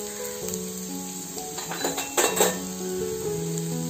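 A spoon scrapes and clinks in a pan while cooked rice is mixed with capsicum, with a few bursts of close, clattering stirring amid faint sizzling and soft background music.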